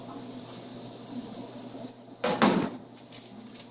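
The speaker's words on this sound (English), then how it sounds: "I'm going to spray the sides very well." Over a faint background hum, a can of cooking spray lets out a short hissing spray onto the sides of a cake pan, then a couple of quieter puffs.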